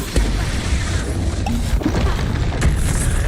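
Loud booming crashes and thuds from Expulso blasting spells fire in quick succession during Hogwarts Legacy combat, thick with dense rumbling impacts.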